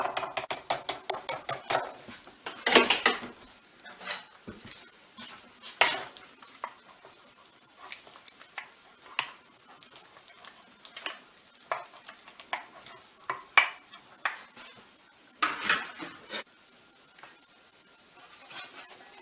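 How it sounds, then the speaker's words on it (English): Spoon scraping and stirring in a saucepan as cheese melts into a sauce for a rarebit topping, a series of soft scrapes and clinks with a faint sizzle underneath, close and fairly quiet. "Stir that through so that the cheese melts."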